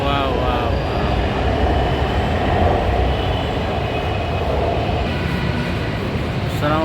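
An Orange Line metro train in Lahore pulls away, a steady broad rumble and rush of wheels on rail filling the whole stretch at close range, with faint voices mixed in underneath.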